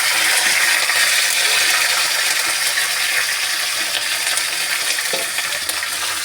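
Wet curry leaves hit hot oil in a pan, with a loud, steady spluttering sizzle that continues without pause.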